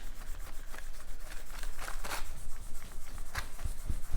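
A craft piece for a dragonfly garden project is burnished by hand, producing a steady dry rubbing and scraping in short repeated strokes, close and moderately quiet, with a few soft knocks near the end.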